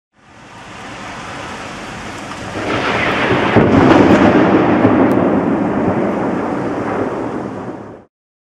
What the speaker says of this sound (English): it's a very dark and stormy evening